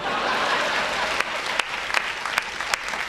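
An audience applauds at a Hindi comic poetry recital, a dense sustained wash of clapping that thins out toward the end, leaving scattered sharp individual claps.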